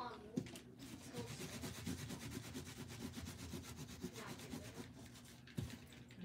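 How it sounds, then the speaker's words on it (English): Steady rhythmic rubbing on a card surface during papercraft work on artist trading cards, a dry scratchy back-and-forth scrubbing heard up close and alone for several seconds. "rubbing a little bit too hard in some places, going all the way down to the white"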